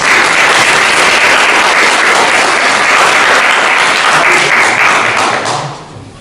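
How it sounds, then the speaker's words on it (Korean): Audience at a forum lecture giving a round of thankful applause for a speaker, loud and dense clapping throughout before tapering off quickly at the end. "이 시간에 다시 한번 감사의 박수 저희가 쳐드릴까요?"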